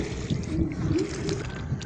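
A small rowboat is rowed through rough tidal water on a fishing outing, with low churning, sloshing water and hull noise close by, steady and without speech.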